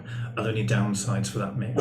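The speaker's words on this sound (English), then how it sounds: "Oh, sorry, that's my dog." A pet dog barks and yips in the background of a home while a person keeps talking over it, the short barks partly masked by the voice.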